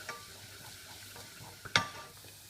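Onions, garlic, ginger and cumin seeds browning gently in a pan over lowered heat, a soft steady sizzle with one brief sharper crackle or stir partway through.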